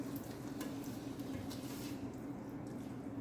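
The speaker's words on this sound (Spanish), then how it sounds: "Igual la doro junto con el sofrito que estoy haciendo para quemarla un poquito." Sauce browns with sofrito in a pan for Dominican moro con pollo, producing a soft, continuous sizzle and gentle bubbling with no voices.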